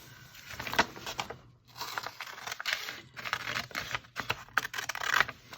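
Scissors snip through paper pieces for a junk journal, close and fairly quiet, in irregular bursts of crisp cuts and rustling paper.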